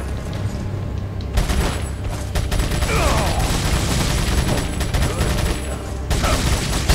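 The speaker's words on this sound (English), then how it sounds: "Let's just keep shooting this guy" Gunshots in the Resident Evil 4 remastered video game, heard as loud, sustained volleys of rapid fire with a brief lull partway through before the shooting resumes.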